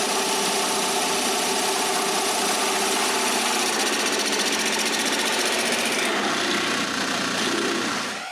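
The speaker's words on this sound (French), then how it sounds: "Il me reste encore 2 autres trous que je veux percer d'un boîtier." Power drill boring holes through a wooden joystick box: a loud, continuous buzzing motor whine with a rapid rattling texture, steady throughout and easing slightly near the end.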